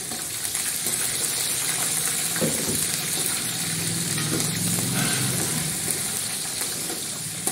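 Green chillies and peanuts fry in a hot pan with a loud, continuous sizzle and crackle, stirred now and then with a scraping clatter, up close.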